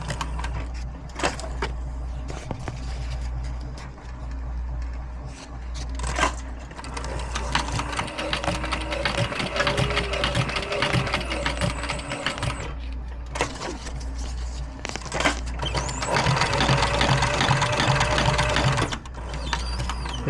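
A Cobra Class 4 leather sewing machine stitches ammo loops in bursts of rapid, rhythmic clatter, running steadily for stretches and stopping briefly between runs, close and loud over a low motor hum.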